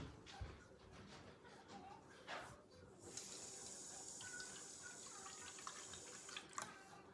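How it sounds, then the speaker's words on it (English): Water runs from a kitchen tap into a measuring cup for a quarter cup, a faint, steady stream that grows into a fuller hiss partway through and then cuts off. No one talks over it. "I'm gonna grab a little bit of water."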